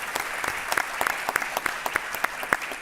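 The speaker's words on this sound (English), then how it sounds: "let's give our panelists a round of applause" An audience at a panel discussion on Gulf oil producers and the energy transition applauds its panelists: steady, full applause with sharp individual claps standing out close by, running through the whole stretch.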